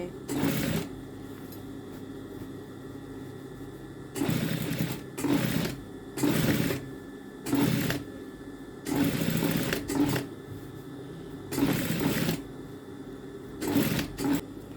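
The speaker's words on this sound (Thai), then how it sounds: "โดยใช้ตีนผีนะคะ วางบนเส้นนะคะ บนเส้น ที่เราเย็บมาครั้งแรก" Sewing machine stitching a seam with a presser foot, in repeated short bursts of fast mechanical whirring separated by pauses, close and fairly loud.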